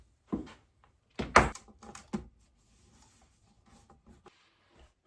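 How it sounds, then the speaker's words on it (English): Screws are driven into a cigar box guitar body, a few short sharp clicks and scrapes in a quiet room, followed by faint small ticks. "So I'm going to screw these down real quick."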